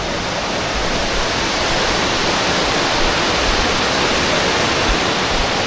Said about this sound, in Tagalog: sobrang ganda po ng falls dito